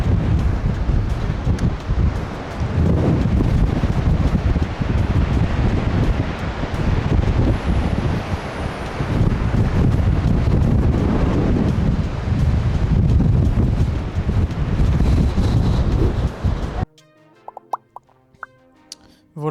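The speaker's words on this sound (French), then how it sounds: "Et vu qu'on est en bord de falaise et en bord de mer, en bord d'océan, il y a beaucoup de vent." Strong wind roars and buffets the microphone on an ocean clifftop in Australia, loud and continuous with surf beneath, before cutting off abruptly near the end.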